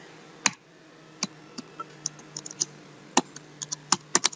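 Java code being typed on a computer keyboard: scattered, crisp key clicks at an irregular pace, some in quick bursts and others spaced apart, close and fairly quiet, with nothing else audible.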